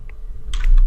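Keys tapped on a computer keyboard while entering Python Tkinter code, a short burst of close, crisp clicks in quick succession with no voice over them.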